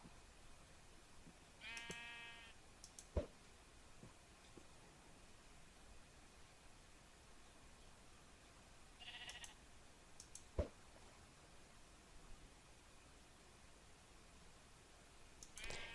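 Sheep in the Minecraft video game bleat twice, a short wavering cry early on and another several seconds later, over a faint steady hiss, with a couple of sharp clicks nearby.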